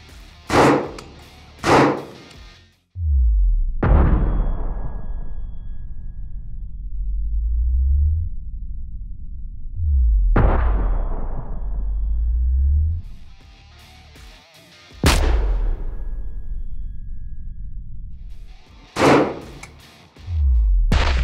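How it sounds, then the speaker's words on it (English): 7.62 rifle rounds hit Spartan Armor Systems body armor outdoors. Each loud, close crack is followed by a long rolling echo that slowly fades, and several shots are spaced over about twenty seconds with no speech. "This is where we fired all 3 rounds."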